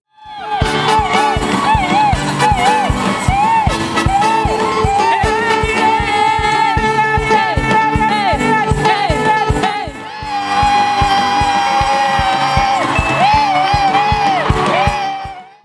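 A church congregation at an album launch ceremony cheers and shouts in acclaim over loud, continuous singing and rhythmic worship music with a driving beat, the voices whooping throughout.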